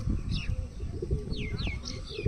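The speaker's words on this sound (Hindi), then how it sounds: "बिल्कुल पतला सा सूता हुआ कबूतर है" Low, soft cooing from a slender Madrasi pigeon, a Fulsara Kaldumi male of Andhra bloodline, repeats in gentle pulses near at hand amid handling rustle and faint bird chirps.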